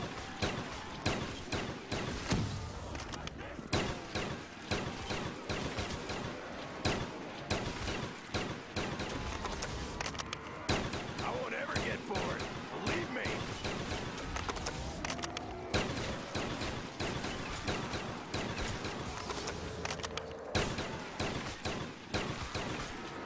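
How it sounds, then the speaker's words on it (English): Gunfire in Black Ops 3 Custom Zombies on the Jake's House map: dense, rapid bursts of shots crackling almost nonstop, loud and close, with only brief gaps between volleys. "As you keep dying, I'll keep shooting."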